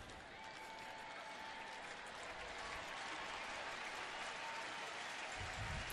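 A large crowd applauds and cheers at a Rangers at Cleveland Indians baseball game at the stadium, a dense, steady roar of clapping that holds throughout and swells slightly toward the end.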